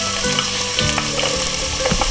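Onions fry in about two tablespoons of hot oil in a pan, a dense, continuous close sizzle with occasional stirring scrapes.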